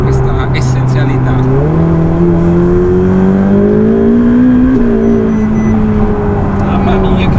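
A Ferrari 488 Pista's engine revs loud and close, its pitch climbing steadily under hard acceleration with a steady roar throughout, heard from inside the car.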